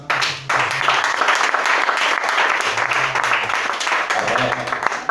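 Church congregation applauding during a worship service, steady dense clapping throughout with a low voice murmuring faintly underneath.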